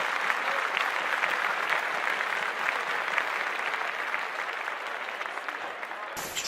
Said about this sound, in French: On l'applaudit, allez, tous ensemble.